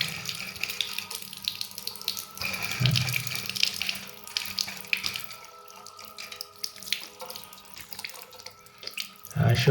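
Tap water runs steadily into a sink and down the drain trap while something is washed, a continuous splashing rush that swells and fades slightly, close by, with no talk.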